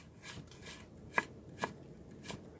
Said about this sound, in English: And then I'm just going to do some nice sort of julienne pieces of carrot.